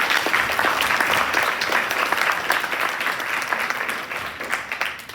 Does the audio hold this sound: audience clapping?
yes